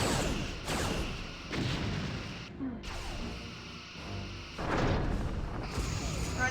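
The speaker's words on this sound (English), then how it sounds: "Running out of quantum torpedoes already." Quantum torpedoes firing in Star Trek: Bridge Commander, a series of heavy booming launches and impacts in separate bursts with short pauses between, loud and close.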